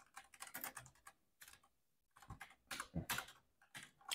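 Quick bursts of keystrokes on a computer keyboard while someone types code, clattering in uneven clusters with short pauses between them, close and fairly quiet.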